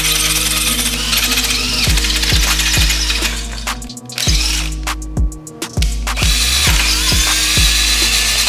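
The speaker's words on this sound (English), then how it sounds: "see if I can drill it for a 5/16 or 8mm bolt" A drill bores a 5/16-inch or 8 mm bolt hole through clamped leaf-spring leaves from a Suzuki Carry's rear suspension. The loud, steady grinding has repeated dips in pitch as the bit bites and the motor bogs down.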